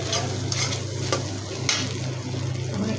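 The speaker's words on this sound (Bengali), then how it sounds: "আমার চিংড়ি মাছ ভাজা হয়ে গেছে" Shrimp frying and being stirred in a pan, with steady close sizzling and a few scraping stirs throughout, no voices.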